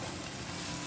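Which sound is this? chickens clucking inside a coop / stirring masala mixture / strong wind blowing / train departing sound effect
stirring masala mixture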